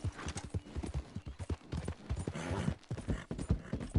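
Horse hooves clip-clopping in Red Dead Online, a brisk, even run of close hoof strikes on hard ground, heard alone without talk.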